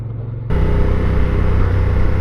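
A Honda Africa Twin motorcycle engine fires up abruptly after a brief low hum, then settles into a loud, steady, close idle with no voices.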